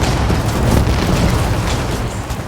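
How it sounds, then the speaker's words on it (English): Booming cannon fire from warships during a naval battle in Age of Empires 4, a dense continuous rumble of overlapping low blasts with no clear gaps. "this one ship just taking a brunt of all the cannon fire"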